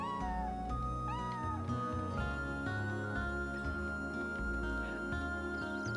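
Cat meows in the video game Chrono Cross, a few short rising mews near the start, set over looping game music with a steady bass line, with no speech.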